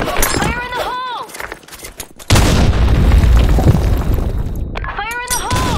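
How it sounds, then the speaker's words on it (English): In the shooter Blackshot, a grenade goes off in a sudden loud, heavy boom with a rumbling tail lasting a couple of seconds. Short warbling voice callouts come just before and after the blast. "Fire in the hole. Grenade."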